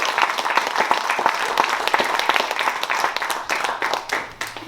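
Audience at a community theatre production of Hansel and Gretel clapping, a dense round of applause of many hands that stays loud and steady, then thins slightly toward the end.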